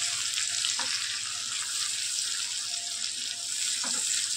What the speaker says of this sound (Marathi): पेस्ट आपण परतून घेऊ म्हणजे हिरव्या मिरचीचा कच्चेपणा जाईल।